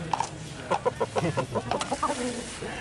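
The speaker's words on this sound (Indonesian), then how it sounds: "Ini kakak nomor 3 lagi memandikan ayam." A fighting rooster clucks repeatedly in short, close bursts during a bath, and its clucks sit over a background of splashing and handling noise.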